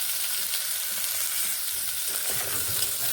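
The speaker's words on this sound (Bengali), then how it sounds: "এভাবে নেড়ে ভেজে নিচ্ছি" Pumpkin pieces fry in a pan with salt and turmeric, giving a steady close sizzle broken by the scrape and shuffle of stirring, with a slightly busier patch of stirring near the end.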